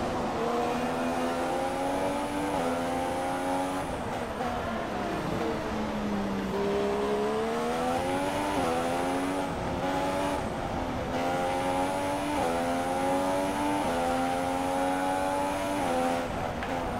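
Formula 1 cars at the 2016 German Grand Prix roar past in a pack, high-pitched engine notes rising and falling as they accelerate and brake, continuous and loud throughout.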